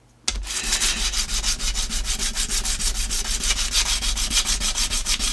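Sandpaper rubbed by hand over wood, a steady rasping scrape in quick, even back-and-forth strokes that starts abruptly and keeps a close, loud rhythm throughout, with no talking.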